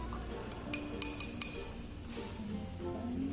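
A glass test tube of Benedict's solution shaken in a lab, giving a quick series of five or six light glassy clinks and taps over a faint steady background hum.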